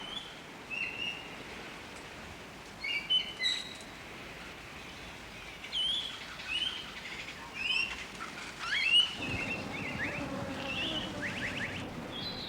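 A Seychelles black parrot calls among palm trunks in a forested valley, its short whistling notes coming intermittently and faintly at a distance over a soft rustling background.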